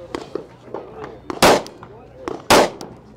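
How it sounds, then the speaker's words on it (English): Two loud, sharp gunshots from a Rock Island 310 .45 pistol with a ported barrel ring out about a second apart at a range, with softer pops and distant shots from other shooters between them. "So this is the Rock Island 310. Comes with three 10-round magazines, and then it's got ports in the barrel."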